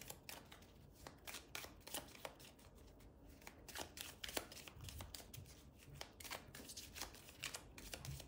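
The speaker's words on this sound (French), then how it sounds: "On va recouvrir les cartes." Tarot cards being gathered up and shuffled at a reading table, with a continuous soft riffling patter and a string of light, crisp slaps close by, no voices.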